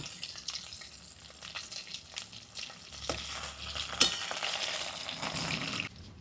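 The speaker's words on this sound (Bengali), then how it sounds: "এবার আরেক পাশটা উল্টিয়ে ভেজে নেব" Small tengra fish are flipped in a pan of hot oil to fry the other side, giving a continuous close sizzle with light clatter of turning and one louder knock.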